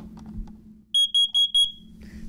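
A carbon monoxide detector under test sounds four quick, shrill beeps in a steady rhythm, loud and close, with faint handling noise before and after.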